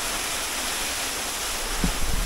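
A flooded creek rushes with a dense, hissing wash of water, steady and close, with a brief heavier churn near the end.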